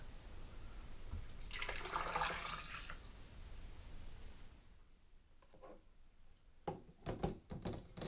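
Filtered water pours into a Vitamix S55 personal blender cup, a soft, close splashing stream lasting a couple of seconds, followed by quiet handling clicks and small knocks.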